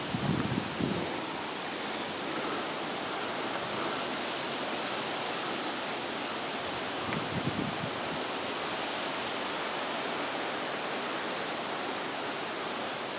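Strong wind blows outdoors as a steady, loud broadband roar lasting the whole stretch, with a few heavier gusts buffeting the microphone near the start and around the middle, and no voices.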